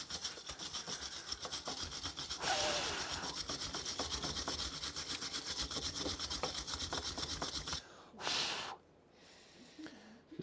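Rust being scrubbed off the front brake hub of a 2011 Ford Expedition: fast, rasping back-and-forth strokes, close and steady for several seconds, then a short final burst before it stops.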